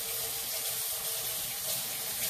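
Tap water runs in a steady, full hiss into a kitchen sink as hands are rinsed, close and continuous, with no voices.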